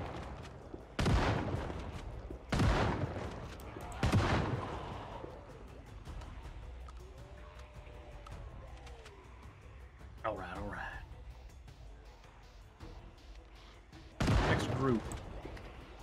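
Video game gunfire with heavy volleys of shots bursting in several separate loud blasts, spaced irregularly, with quieter ambient game sounds and faint effects in between.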